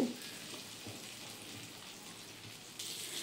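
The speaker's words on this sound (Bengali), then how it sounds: "তেলটা গরম হয়ে এলেই পটলগুলো এর মধ্যে ছেড়ে দিলাম।" Pointed gourd pieces frying in hot oil over a medium flame, a soft, steady crackling sizzle heard faintly and continuously, with a slight rise in intensity toward the end and no voices.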